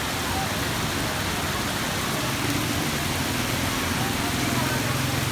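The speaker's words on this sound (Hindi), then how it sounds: "दोस्तों बहुत ही कमाल की सुबह सुबह बारिश ज़ोरों से शुरू हो गई।" Heavy morning rain falls in a steady, dense broadband hiss that holds evenly throughout without breaks, filling the whole space.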